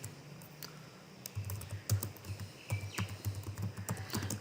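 Java code is typed on a computer keyboard in a quick, fairly steady run of close clicking keystrokes, heard alone over a low background hum.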